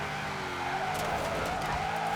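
Forza Horizon 4 car drifting at high speed, a continuous engine roar with long tire squeal and skidding swells, loud and close throughout, no voices.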